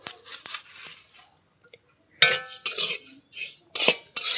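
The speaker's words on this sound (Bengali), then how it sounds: "ধনে আর জিরে কাঠখোলায় ভেজে দেবো" Cumin and coriander seeds roast dry in a clay pan, heard as intermittent scraping, rattling and light clinks of a utensil against the pan, close and fairly loud, with a quiet pause partway through.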